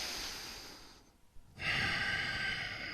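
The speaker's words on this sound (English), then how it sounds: "And always with the slow, controlled breathing." Slow, controlled breathing during a yoga ab workout, a soft steady airy exhale, a brief pause with a small catch, then a longer fuller breath, quiet and close.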